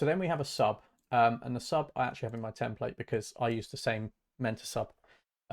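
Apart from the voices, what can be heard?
No everyday noises stand out.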